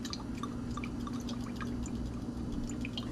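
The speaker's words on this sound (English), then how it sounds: "Pot is hot, getting hot. Adding some oil." Oil poured into a hot pot before stew crackles and spits in a dense, steady sizzle, close and constant, with small pops scattered through it.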